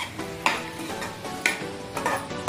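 Potato pieces stirred and sautéed in a pan with salt and turmeric, a close sizzle broken by a few sharp scraping strokes of a spoon at regular intervals.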